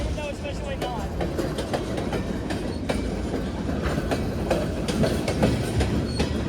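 Union Pacific westbound freight train bound for Livonia, Louisiana rolling steadily past at close range, a continuous rumble with rhythmic clickety-clack wheel beats over rail joints and faint squeals, with people talking over it.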